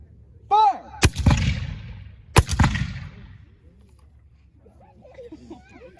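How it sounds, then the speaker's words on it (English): Black powder musket volleys fired by reenactors at Fort Pickens, two sharp, loud cracking bangs about a second apart with rumbling echoes, preceded by a shouted command and followed by faint voices. "we are using actual black powder, so there will be a bit of a bang"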